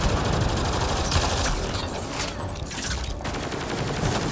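Sustained volleys of weapon fire from the sci-fi game Mass Effect: Andromeda, a steady loud clatter of shots that thins briefly in the middle and then picks up again, with no talking.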